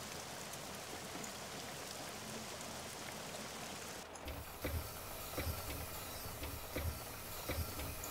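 Rain in Train Simulator 2015 with the BR 140 locomotive, a steady hiss of rainfall that shifts abruptly partway through to closer, louder patter with soft regular thumps.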